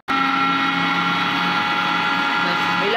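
An electric grinder blends green chilies, garlic and salt into a chutney with a loud, steady motor whine. It starts abruptly and holds an even hum throughout, with a slight pitch shift near the end.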